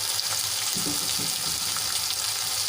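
Tomatoes sizzling in a hot pan for tomato chutney, a steady loud hiss of frying with a few soft clinks of stirring, no talk.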